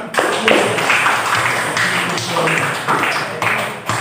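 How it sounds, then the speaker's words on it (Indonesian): Classroom applause for a student named Bima, a dense burst of many hands clapping at once, loud and close, holding steady for several seconds. "Tepuk tangan untuk Bima."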